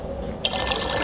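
Water pours steadily into a container, a continuous bright splashing rush that starts abruptly and holds evenly to the end, close and fairly loud, with no voices.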